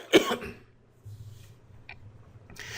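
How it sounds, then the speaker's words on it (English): A single sharp cough close to the microphone during an online webinar, followed by quiet low room hum and a faint click. "excuse me, I feel a cough coming"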